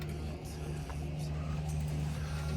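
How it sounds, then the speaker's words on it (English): A car engine being bump-started at the Santa Pod drag strip, its ring gear broken, heard as a steady low engine drone with faint tyre and road noise, fairly distant and continuous throughout. "Bump start, will it work?"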